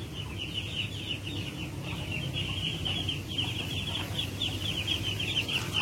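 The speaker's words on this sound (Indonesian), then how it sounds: "semua teman-teman adalah koleksi entok saya, mulai dari pejantan sampai pada indukan" A flock of Muscovy ducks, both drakes and hens, kept on a farm, gives off steady close-range poultry clucking and chatter that carries on without a break, with no voices.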